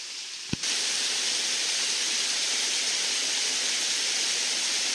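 Stream water flows steadily beside a bushcraft bivouac site, a continuous broad rushing wash close by with a single brief knock near the start and no voices.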